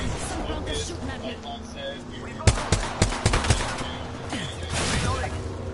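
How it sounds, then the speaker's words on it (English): Gunfire in an Apex Legends match, a loud burst of several sharp rapid shots in the middle over constant game background noise, with a player's voice talking across it. "Some bunkers shooting at me."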